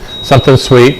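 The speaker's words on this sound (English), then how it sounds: "That's the alarm, and we've gone to 0 on the timer." A steady high electronic beep from a Cres Cor QuikTherm oven timer alarm sounds throughout the moment while a person speaks over it.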